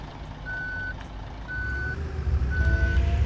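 A bus backing up sounds its reversing alarm in three evenly spaced steady beeps about a second apart, loud and close, over a rising low engine rumble.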